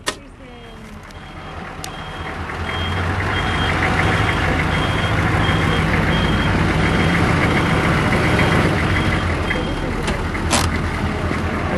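A pickup truck with a trailer idles and creeps in reverse up a hill, engine rumbling steadily as it builds, with a faint repeating reversing beep running through.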